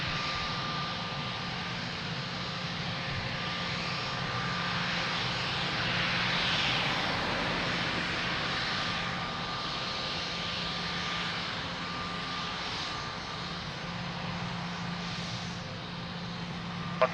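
A Star Alliance-liveried airliner at Lisbon Airport fills the air with a continuous broad jet-engine roar that swells gently in the middle, steady and sustained with no talk.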